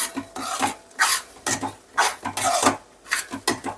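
A spoon scraping and stirring a thickening sweet mixture with saffron food colour in a pan, in rhythmic rasping strokes roughly twice a second, close and clear with no talking.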